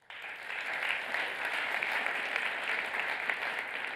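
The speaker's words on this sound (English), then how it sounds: "I'm going to give a round of applause for Lak." Steady audience applause greeting speaker Lak Lakshmanan at a Kaggle talk, an even wash of clapping from a room of people sustained for the full four seconds without talk over it.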